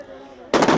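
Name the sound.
explosions at farmers' protest clash with police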